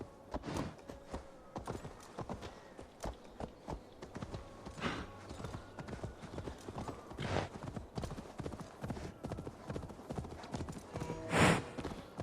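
A horse gallops in Assassin's Creed Valhalla, its hooves beating a steady, rapid clip-clop rhythm close up for about twelve seconds, with a brief whinny near the end and no talk over it.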